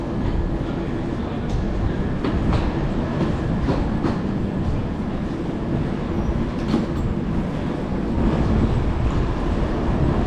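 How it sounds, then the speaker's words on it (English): A passenger train rolls from Copenhagen toward Malmo, Sweden across the bay, with a loud steady rumble, rhythmic rail clatter and occasional faint squeals from inside the carriage. "we're going to jump on this train leaving Denmark, Copenhagen, and heading to Malmo, Sweden"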